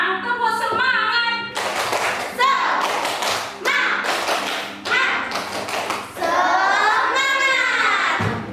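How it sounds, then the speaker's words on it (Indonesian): Children in a classroom perform a rhythmic spirit clap, with sharp patterned hand claps and taps mixed with chanted voices, loud and close throughout. "Yuk, sekarang tepuk semangat."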